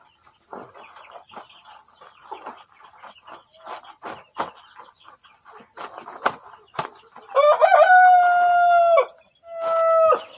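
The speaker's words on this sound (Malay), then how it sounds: "Anak ayam dia suka sangat berhimpun di penjuru-penjuru." Chickens and young chicks in a coop give scattered clucks and short chirps, followed by two long, loud, harmonic calls close to the microphone near the end.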